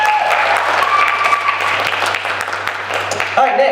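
Applause from a pageant audience fills the room steadily for most of the stretch, a dense wash of clapping that stays loud with some voices mixed in before a brief change near the end.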